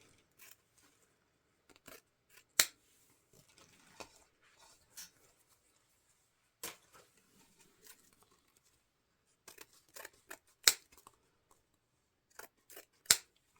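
Scissors snip ribbon for a wreath in a quiet room, a series of sharp, separate cuts spaced irregularly, a few louder close-up snips standing out.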